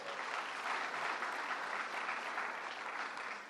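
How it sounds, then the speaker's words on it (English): Sustained applause from an audience, a steady wash of clapping hands that holds at an even level before easing slightly at the end. "Let's give them a big round of applause."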